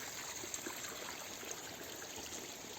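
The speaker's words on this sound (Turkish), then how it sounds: "Bu da Poyraz Pınar. Suyun çıktığı nokta." Water flows steadily from the Poyraz Pınar spring source near a cave. It makes a soft, continuous trickling with no voices.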